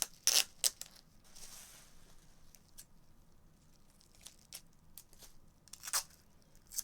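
Packing tape strips torn against a table edge: several short sharp rips, the loudest near the start and others scattered through, over faint room hiss.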